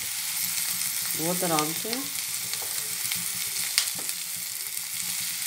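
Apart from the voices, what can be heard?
green chilli paste and spices frying in a pan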